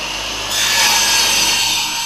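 A power saw cuts through wood to remove snipe sections, a loud steady whine and rasp that rises midway and holds as the blade bites.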